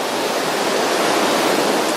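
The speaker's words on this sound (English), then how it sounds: "So listen to those waves." Ocean waves wash in a loud, unbroken roar of surf, dense and steady throughout with no voices present.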